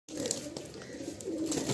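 Pigeons coo in a crowded loft in Kolkata, a soft continuous low murmur of many birds close by, with occasional brighter calls rising over the steady flock.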